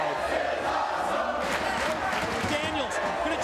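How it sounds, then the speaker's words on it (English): A wrestling arena crowd in a TNA match roars and cheers steadily, a thick, loud wall of voices with shouts rising through it and no break from start to finish. "Listen to the crowd."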